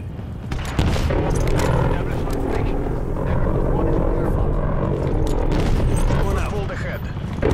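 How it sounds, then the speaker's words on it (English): Helicopter passing overhead during a Call of Duty: Black Ops Cold War match, a steady rotor drone mixed with bursts of gunfire and explosions, loud and continuous, with game announcer voices over it. "Helicopter overhead."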